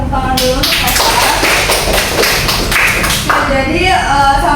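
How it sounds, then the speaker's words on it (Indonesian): A classroom of students claps for their male teacher: close, dense and uneven hand claps with thumping taps fill the whole stretch, while voices talk over the noise. "Boleh tepuk tangan dulu untuk Bapak."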